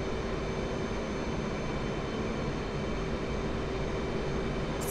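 An F/A-18 Hornet jet in the DCS flight simulator makes a steady, unbroken roar that holds at an even, loud level throughout with no clear rise or fall.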